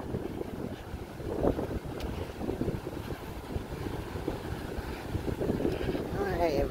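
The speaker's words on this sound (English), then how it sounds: "you're gonna check out a hurricane on the beach" Tropical storm wind roaring across a beach during a 2020 storm, a steady loud buffeting rush against the microphone with gusts swelling throughout.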